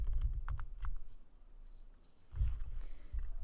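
Fingers tap on a computer keyboard while entering a search term in a document editor, with quick light clicks in short bursts, close and fairly soft over a low background hum.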